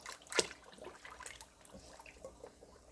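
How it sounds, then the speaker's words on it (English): Water poured into an emptied can in a home kitchen while making garlic chili oil, a faint splash followed by quiet trickling and dribbling. "I empty it and then I try to add some water in order that the can will be clear up"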